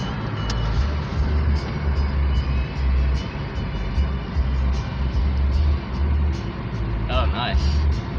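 Inside a moving car on an old road, a low road rumble rises and falls continuously while people talk over it.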